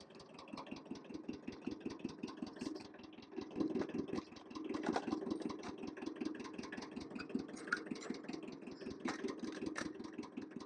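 A low, steady tractor engine idling close by on a Portuguese homestead, with a regular chugging pulse running throughout and no voices.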